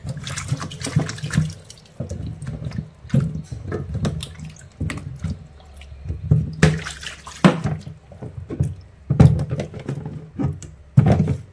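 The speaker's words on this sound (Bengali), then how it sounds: "চাল কুমড়োগুলো খোসা ছাড়িয়ে নিয়েছি, একটু ধুয়ে নিই, নাহলে না বড্ড স্লিপ কাটে।" Running tap water splashes over peeled ash gourd pieces being rinsed by hand in a sink, a steady wash broken by repeated louder gushes and splatters close by, with no talking.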